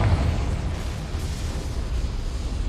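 A Confringo spell explodes in the Hogwarts Legacy video game with a loud, sustained blast, a deep rumbling roar that fills the whole moment without any talk.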